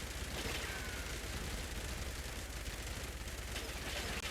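Minigun fire at a Sentry Bot in Fallout 76, a continuous rapid rattle of heavy automatic shots with a low mechanical drone, sustained and fairly distant for several seconds.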